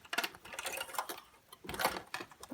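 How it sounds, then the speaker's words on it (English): A home sewing machine stitches along rayon binding in quiet, uneven bursts of rapid mechanical ticking, close and soft, with a short pause midway and no talking. "And I'm going to start sewing on this side of the binding"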